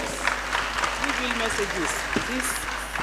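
Sustained applause at an economic summit session in Ondo State fills the hall, with voices talking over the clapping throughout.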